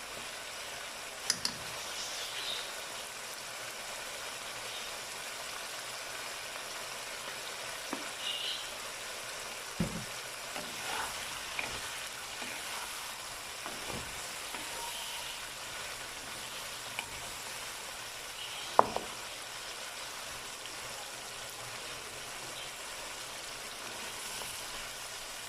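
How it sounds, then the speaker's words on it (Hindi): Chicken pieces fry in oil in a karahi, giving a steady, close hissing sizzle throughout, broken by occasional soft clicks and taps of stirring. "चिकन फ्राई होना स्टार्ट हो चुका है।"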